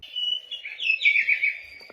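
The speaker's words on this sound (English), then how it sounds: "The birds are chirping." Birds chirp on a morning, a quick run of high thin tweets and trills heard alone and fairly close.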